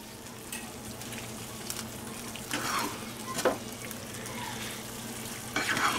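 Sweet and sour tofu sizzling in a pan while being stirred, a steady frying hiss with a few scraping stir strokes and soft clinks of the utensil, close and moderately quiet.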